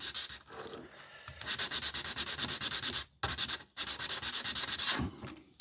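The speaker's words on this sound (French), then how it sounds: "je prends toujours ma petite lime pour limer" A small file rasps rapidly back and forth across a cut piece of Z-scale model sidewalk, in three loud, close, evenly rhythmic bursts separated by short pauses.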